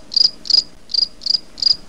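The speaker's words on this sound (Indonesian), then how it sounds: "itu suara jangkrik" Five short, evenly spaced cricket chirps, each a quick high trill, close and clear with near silence between them.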